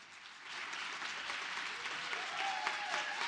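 Sustained audience applause at a closing plenary of a community convening, a steady broad wash of many hands clapping at moderate distance, with a few faint voices mixed in.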